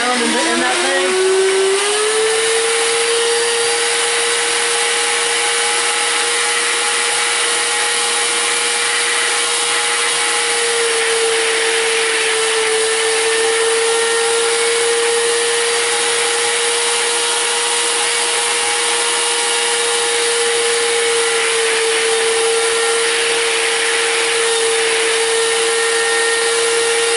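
A Nutribullet RX blender churning almonds into nut butter runs at a loud, constant motor roar with a steady hum for nearly half a minute, the jar wobbling on its base, with no voices.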